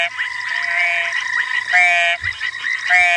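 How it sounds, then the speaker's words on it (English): An ornate frog calls at dawn in the African bush during a sunrise safari drive, its repeated croaks rising over a steady, dense chorus of other frogs and insects. "So that's the ornate frog."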